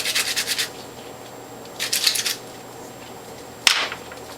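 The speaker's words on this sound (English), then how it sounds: "pull out your grit and clean it. Both sides." Grit screen of a Near Zero juicer being scrubbed clean after juicing ginger and greens: two short bursts of brisk scraping and rubbing, then a single sharp knock, close and with no talk.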